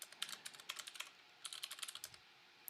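Keys clatter on a computer keyboard while C code is written, a quick irregular run of close, crisp clicks with a short pause midway and no voices.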